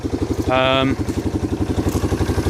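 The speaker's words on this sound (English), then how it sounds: "Doesn't sound too bad. In fact, the tick goes away after it gets above idle." A Yamaha Big Bear 350 ATV engine idles with a steady, fast pulsing beat and a light tick, loud and close, while a brief voice cuts in partway through.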